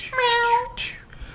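A man imitates a cat's meow with his voice, giving one drawn-out, whiny meow followed by a shorter second call, close and fairly loud, with no other talk.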